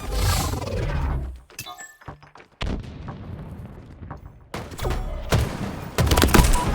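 Grenade blast in the Halo Infinite multiplayer game, a Stronghold match: a loud burst and roar of game gunfire, with several sharp explosive hits near the end.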